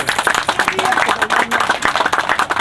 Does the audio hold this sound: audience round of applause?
yes